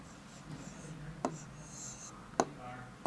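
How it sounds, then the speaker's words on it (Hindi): Handwriting of an Urdu word in a class lesson, with soft pen scratching on paper broken by a few sharper taps and strokes, close and quiet. "तो मस्कन लिखते हैं"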